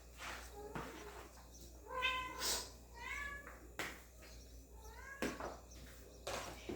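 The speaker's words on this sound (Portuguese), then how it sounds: "Um miado aqui de uma gata enjoada." A fussy female cat meows repeatedly indoors, several drawn-out, rising and falling cries spaced over a few seconds, fairly near, with some background clatter between calls.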